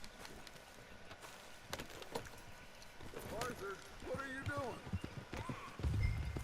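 Horse hooves clip-clop in Red Dead Redemption 2, a run of steady hoofbeats with voices talking over them and a low rumble near the end.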